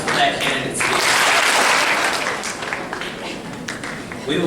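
A school audience claps for a student candidate after her election speech, a burst of applause that swells early, then thins and flutters unevenly toward the end.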